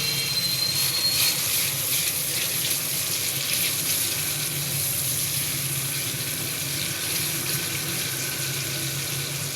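Water poured into spice masala frying with chopped green chillies sets off a steady, loud hiss of sizzling that fills the kitchen without pause.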